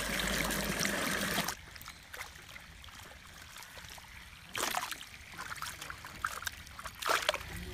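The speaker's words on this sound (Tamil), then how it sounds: "இப்ப கழுவி கிளீன் பண்ணி திரியோம் நல்லா கழுவி க்ளீன் பண்ணிரணும்" Cut tapioca pieces are washed by hand in water, giving sloshing, splashing and trickling sounds that come in bursts with quieter handling in between.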